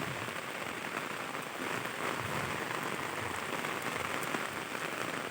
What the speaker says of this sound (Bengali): দেখুন বন্ধুরা কীভাবে বৃষ্টি হচ্ছে দেখুন